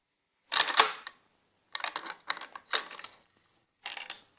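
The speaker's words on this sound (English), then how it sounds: "I pull the bolt all the way back and lift the assembly." A Zastava M91 rifle bolt is pulled fully back and the bolt assembly lifted out, producing a sharp metallic clack followed by several shorter close clicks and rattles in a quiet room.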